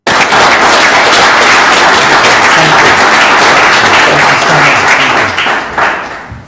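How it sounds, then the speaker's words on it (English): Loud, close applause from an audience at a tech talk, dense even clapping that starts abruptly, holds steady and then tapers off near the end. "Great, round of applause."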